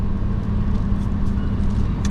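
Steady road-vehicle rumble of many cars in a crowded parking area at a busy spring tubing resort on a Friday morning, a continuous low drone with no clear single pass-by.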